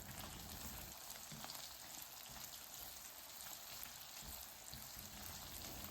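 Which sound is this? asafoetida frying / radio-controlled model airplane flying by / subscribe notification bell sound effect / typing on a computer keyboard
asafoetida frying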